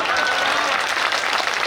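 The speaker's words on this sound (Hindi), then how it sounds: "आपकी तालियां कमजोर है" Audience applause fills a Hindi comic poetry gathering, a dense steady patter of many hands clapping throughout without a break.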